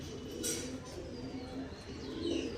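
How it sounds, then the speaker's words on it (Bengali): Pigeons coo in a low, steady murmur with a few faint chirps, close by and continuous without talk. "পায়রা দেখো শুধু আমি কিছু বলবো না পায়রায় কথা বলবে এবার"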